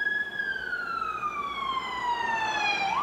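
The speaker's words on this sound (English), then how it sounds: "There's an ambulance." An ambulance siren wails steadily, one long tone gliding slowly downward in pitch as the vehicle passes, loud and continuous over faint traffic noise.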